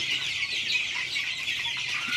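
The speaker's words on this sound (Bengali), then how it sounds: "তিনশো পিস মুরগির বাচ্চা" A flock of about three hundred Colour Bird chicken chicks at a poultry farm keeps up a dense, continuous high-pitched peeping and cheeping, close and steady, with no talking.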